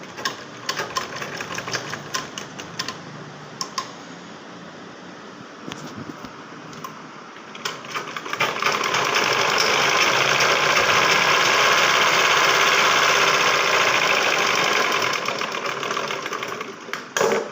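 Sewing machine stitching a saree blouse, running steadily and loudly with a rising whir that settles into continuous fast stitching, with short pauses and clicks at the start.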